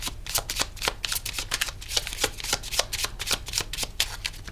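Botanical inspiration oracle cards being shuffled by hand, a steady run of quick, crisp riffling slaps close up and with no talking.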